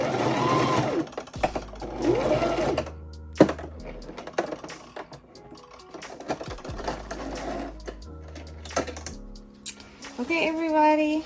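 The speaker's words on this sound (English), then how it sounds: "I'm using a zigzag stitch" A sewing machine runs in bursts, zigzag stitching a satin bonnet, its fast rhythmic needle clatter starting and stopping with short pauses between runs, close and fairly loud.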